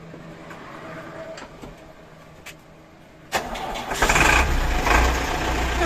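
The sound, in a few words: Tata 909 dump truck engine starting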